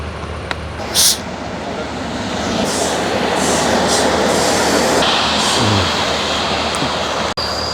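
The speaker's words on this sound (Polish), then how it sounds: "Akurat jechał pociąg" A train from a Chorzów rail-making firm rolls past on the tracks in Katowice at night, a steady broadband rumble and clatter building and holding for several seconds near a footbridge being dismantled by a 350-tonne crane.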